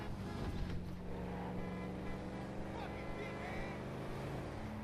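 Car driving in GTA V, a steady engine drone with road noise running continuously throughout, with game sounds layered over it.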